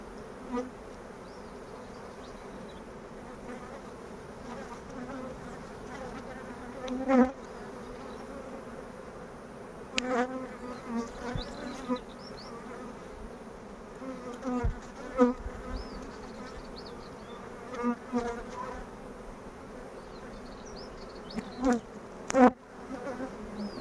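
Honeybees buzz around an opened beehive during hive work, a steady close hum with individual insects whining past and occasional knocks and clicks, with no speech.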